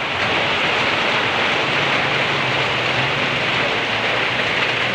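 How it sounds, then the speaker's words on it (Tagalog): Heavy rain pouring down in a barangay in the Philippines, a dense and constant roar of drops hitting surfaces, loud and close, with no voices. "grabe ka kusog sa ulan dere sa barangay Tugbong-Tugon"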